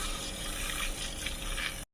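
Water pours steadily into an oil mixture while making a homemade body lotion, a continuous close splashing trickle lasting about two seconds before stopping abruptly, with no talk.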